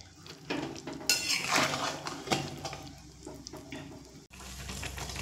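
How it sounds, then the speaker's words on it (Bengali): Mango pieces boiling in sugar and jaggery syrup are stirred in a pot, with a metal spoon scraping and clinking against the bottom in repeated strokes over a bubbling simmer. "আর অবশ্যই কিন্তু তলা থেকে এইভাবে একটু নেড়ে নেড়ে দিতে হবে, কেননা তলায় কিন্তু ধরা লেগে যেতে পারে।"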